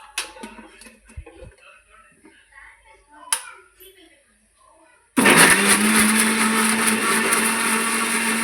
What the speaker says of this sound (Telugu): మిక్సీ అయితే వేసేద్దాం